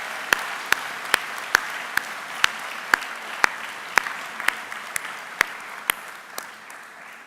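Sparse applause for academic prize recipients at a school graduation ceremony, a dozen or so distinct claps spaced out at a slow, steady rhythm from a small number of hands in a large hall, thinning toward the end.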